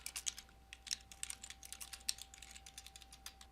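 Fingers tap quickly on a computer keyboard, entering a street address in an irregular run of close, crisp keystrokes over a faint steady hum.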